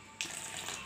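Water poured into green chilli chutney paste in a kitchen, a short splashing gush that starts abruptly and runs steadily for under a second, close and moderately quiet, no voices.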